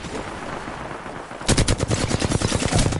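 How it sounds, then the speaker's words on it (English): Video game gunfire bursts in after a dull murmur, a rapid automatic volley of loud, closely spaced shots that continues to the end. "He's getting shot in the back."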